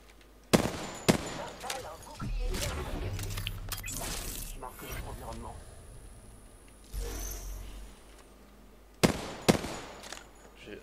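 Weapons fire in the battle royale game Apex Legends arrives as sharp, loud bursts near the start and again near the end, separated by quieter game sounds and a voice talking.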